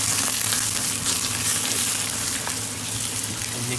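Egg and onion fry in a hot pan while being scrambled, giving a loud, steady sizzle with crackles and occasional scraping stirs, close up and with no talk.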